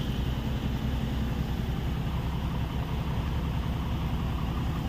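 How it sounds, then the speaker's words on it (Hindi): A truck's cooling fan roars loudly and steadily at a coal mine, a dense broadband whoosh with a low engine rumble underneath, continuous throughout without pauses. "भाई पंखा ना काफ़ी ज़्यादा आवाज़ कर रहा है"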